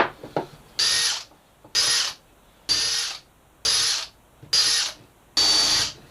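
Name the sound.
drill countersinking screw holes in marine plywood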